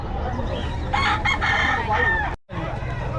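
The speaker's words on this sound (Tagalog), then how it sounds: "Mura mga manok na ito." Several chickens cluck and a rooster crows nearby at a Bocaue market, a loud, busy farmyard chorus that cuts off briefly before resuming.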